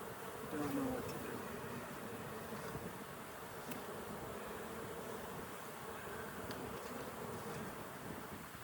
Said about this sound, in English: Now we got lots of bees.